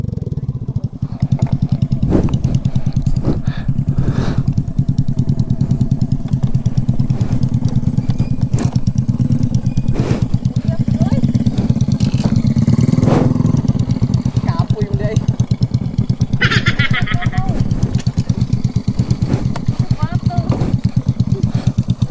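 A motorcycle engine runs continuously and close while riding a rough mountain road in Negros Occidental, with clattering bumps over the uneven surface and people talking over the steady drone.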